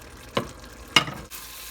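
Carrots cook in a covered pot with a steady sizzle, broken by two sharp clattering stirs or lid knocks about half a second apart, close and fairly loud.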